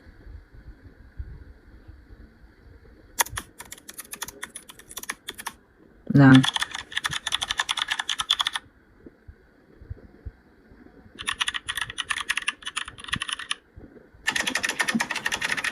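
A typewriter sound effect from a video editing app: bursts of rapid mechanical key clacks with occasional carriage bell dings, coming in separate runs with pauses between; a brief spoken word at the start.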